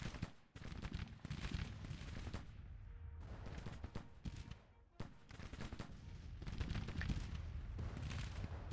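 Massed musket and artillery fire from a Grand Tactician: The Civil War battle: rolling volleys and crackling fusillades with deep booms, continuous and fairly distant, with a brief lull before the firing picks up again.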